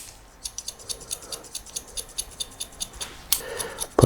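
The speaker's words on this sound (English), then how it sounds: "We'll just point cut into the blend like this." Scissors point cut into hair during a crop top fade haircut, giving a rapid series of crisp, close snips at an even rhythm, with a louder rustle near the end.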